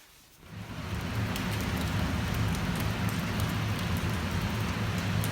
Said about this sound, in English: All it does is rain.